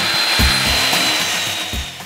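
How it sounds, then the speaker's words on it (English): A miter saw cuts wooden boards for a lumber rack frame, its motor giving a loud, steady whine with a thin high tone and soft low knocks from the wood, with no voices. "And then using my miter saw, I cut the rest of the boards for the frame."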